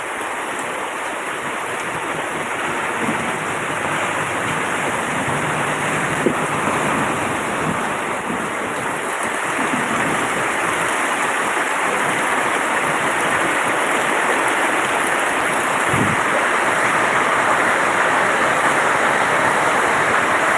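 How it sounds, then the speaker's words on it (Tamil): Heavy rain falls steadily in the mountains, a dense, continuous roar of water that stays loud and even from start to finish with no voices. "மழை அருமையாக பெய்து கொண்டிருக்கிறது"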